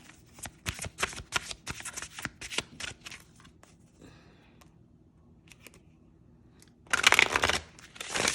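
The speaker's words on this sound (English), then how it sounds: "You get a good bridge shuffling that way." Rapid riffling flutters of an oracle card deck being bridge shuffled, several quick bursts close up, then a louder dense riffle near the end.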